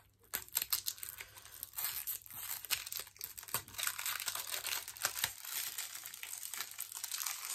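Crinkly plastic and cardboard packaging of a Grasse Estella eyelash serum being opened and torn, a close series of rustles, crackles and tearing bursts over a quiet room.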